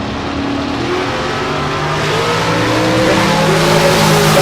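Drag race engine noise at a bracket race: a loud, sustained car engine drone rising slightly in pitch as it idles and revs near the starting line, with no talk over it.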